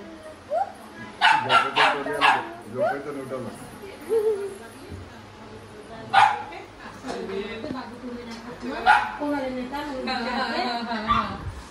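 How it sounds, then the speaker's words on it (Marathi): A small puppy gives a series of sharp yips and barks in bursts up close, mixed with whimpers, while people talk around it throughout. "ये हमारा छोटा पिल्लू उठ गया."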